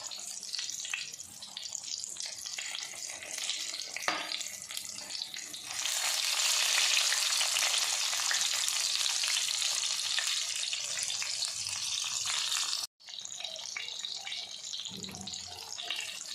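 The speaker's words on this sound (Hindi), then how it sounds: "ਇਸ ਤਰ੍ਹਾਂ ਅਸੀਂ ਸਾਰੀਆਂ ਮਿਰਚਾਂ ਫਰਾਈ ਕਰ ਲਾਂਗੇ" Stuffed spicy green chillies fry in a pan with a steady, fairly soft sizzling hiss that swells louder midway, briefly cuts out, then resumes more gently.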